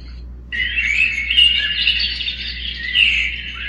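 Birds chirping and trilling in an early morning forest, played through a star projector's built-in nature sounds; bright, busy calls overlap continuously at moderate loudness after a brief quiet start.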